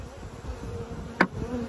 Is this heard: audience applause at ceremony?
no